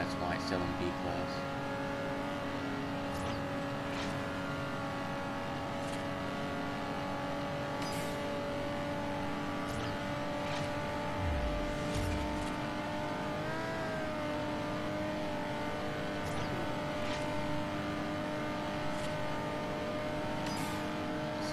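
A steady droning car engine in the racing video game Forza Horizon holds a constant hum with occasional pitch shifts and faint clicks, continuous throughout.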